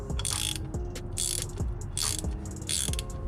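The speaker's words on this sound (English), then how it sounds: "Use a ratchet wrench to tighten it down, or just a ratchet." Ratchet wrench tightening a bolt on a GSX-R600 motorcycle, giving repeated bursts of rapid pawl clicking in a steady back-and-forth rhythm, close and fairly loud with no talk.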